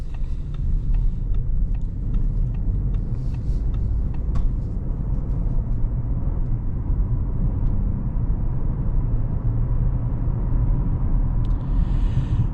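Steady low road rumble from a 2026 Audi A6 S Line with its standard V6 accelerating on a back road, heard from inside the cabin: a smooth, quiet, continuous drone with no talk.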